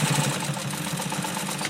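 Sewing machine stitching fabric for a chair arm cover, a steady close motor hum with a fast, even pulsing of the needle, running alone.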